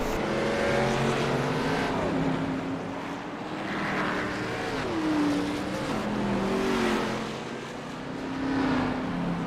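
Field of NASCAR Xfinity Series stock cars in a sim racing league rolling off together for the warm-up lap, a steady layered engine drone with pitch sweeps rising and falling as cars pass, continuous and fairly loud with no talk.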